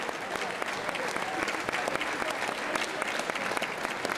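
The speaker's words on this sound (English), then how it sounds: "Put your hands together." Steady crowd applause rings through the venue at an amateur MMA contenders event in Norwich after a fight's unanimous decision, dense and continuous without letting up.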